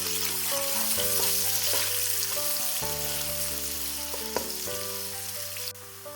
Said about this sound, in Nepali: प्याजलाई केही बेर पकाउँ।